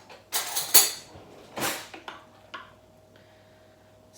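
Spoon clinks and scrapes against a dish while scooping fresh, roughly chopped cranberry orange relish, a few sharp close taps in the first two seconds, then fainter scraping fading into quiet.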